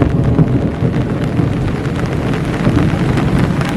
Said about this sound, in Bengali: চরম পরিমাণ ঠাড়া পড়ে বৃষ্টি অনেক বৃষ্টি সেই রকমের বৃষ্টি